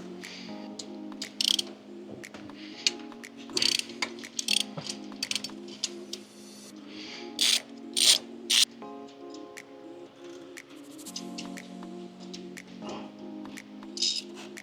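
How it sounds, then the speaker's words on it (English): An Allen key turns a bolt on a downpipe clamp of an MK7 GLI, making repeated faint metallic clicks and scrapes in short bursts under a low steady hum close by. "We're going to need a 6mm Allen to take that bolt out"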